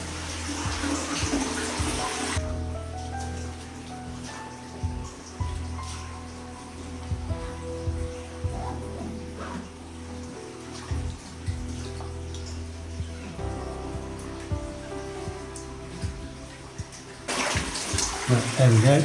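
Water runs steadily inside a limestone cave on Iriomote Island, a continuous splashing rush heard close by, with someone talking briefly over it.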